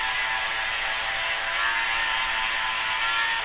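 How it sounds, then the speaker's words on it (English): A small battery-powered sweater shaver buzzes steadily across a red sweater to take off pilling, giving a close, continuous whirring hiss with slight variations as the blade moves over the knit. "I'm gonna just do a quick touch up with the sweater shaver."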